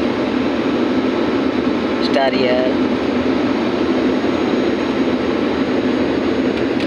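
Airplane cabin during a climbing flight from Tirupati to Kolhapur; a loud, constant broadband engine hiss and low drone fills the space, with a brief voice speaking over it.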